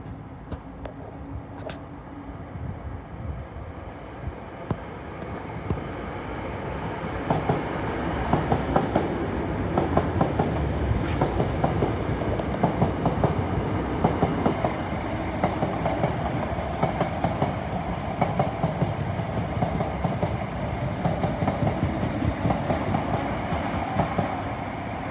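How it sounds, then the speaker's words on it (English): London Northwestern Railway class 319 electric train passing at Primrose Hill, a sustained rumbling roar with rhythmic wheel clatter building and holding steady throughout, no voices. "That's defo a London Northwestern Railway 319."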